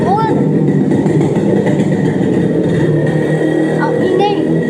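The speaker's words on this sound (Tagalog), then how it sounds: "ang ingay ng motor" A loud motorcycle engine runs close by in a steady, unbroken roar that holds at one level throughout, with brief faint voices mixed into the noise.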